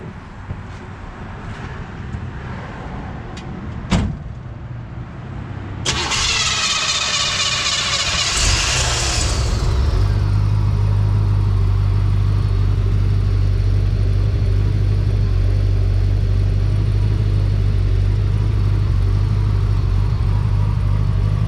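A 1964 Chevrolet Impala Sport Coupe's 327 V8 cranks briefly, catches with a loud burst of revs, then settles into a steady, deep, rumbling idle close by, with no talk over it.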